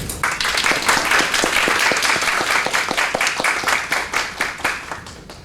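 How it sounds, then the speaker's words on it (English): Lecture audience applauding a professor after her talk, a hall full of clapping with sharp, regular claps standing out in front, holding steady and then thinning out toward the end, with no voices. "can we all give Professor Sloan a round of applause for her lecture?"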